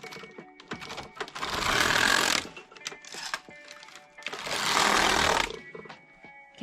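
A Passap E6000 knitting machine carriage pushed across for two rows, giving two loud, sustained rushing, clattering passes separated by short pauses with small clicks and knocks, no talking.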